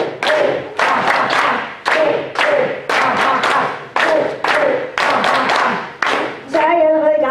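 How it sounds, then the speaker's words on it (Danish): A seminar audience claps in unison during a laughter exercise, with steady rhythmic bursts of many hands repeating loudly, roughly three claps per second, then ending as voices rise at the close. "Så hvis I lige klapper ud til den ene side"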